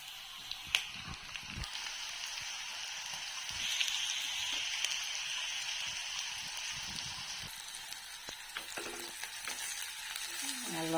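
Chopped vegetables sauté in hot oil on a home stove, a steady close hiss of sizzling broken by occasional clicks and scrapes of stirring, with no voices.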